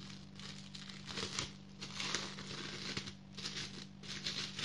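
Plastic packaging crinkles in repeated bursts as a white, transparent bumper case for an Elephone P8000 phone is opened, with close, steady rustling throughout and no talking.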